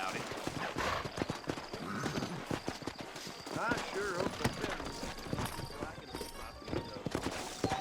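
Horse hooves clip-clop steadily under ongoing talk, with game-like ambience and a brief whinny mixed in, from Red Dead Redemption on Xbox 360.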